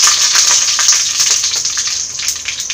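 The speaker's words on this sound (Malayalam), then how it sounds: "കടുക് പൊട്ടി വരുന്നുണ്ട്." Mustard seeds splutter in hot oil in a pan for Kerala-style kappa, a loud, dense, steady crackle and hiss with scattered sharper pops.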